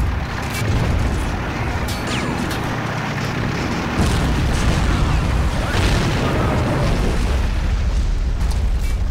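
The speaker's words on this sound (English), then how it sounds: "Bombing run." Bombing run in the Men of War war game, dense continuous rumbling explosions and booming blasts layered into a loud, unbroken roar of battle, with a voice faintly present beneath.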